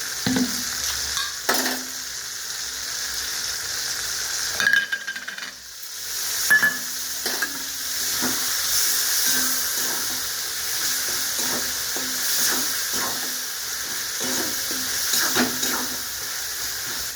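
Dried red chilli paste and turmeric being stirred and sautéed with a splash of water in a pan for a lentil and meat curry, a steady soft sizzle broken by repeated scraping stirs throughout.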